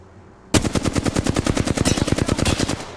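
A sustained burst of automatic video game gunfire starts abruptly and runs as an evenly spaced, loud, close stream of shots for over two seconds, with no talking.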